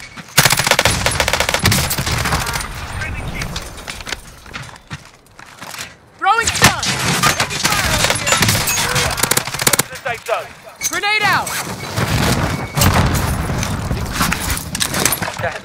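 Loud, close automatic gunfire rattles in sustained bursts during a Call of Duty: Modern Warfare (2019) match, with brief pauses between volleys and voices talking over the shooting.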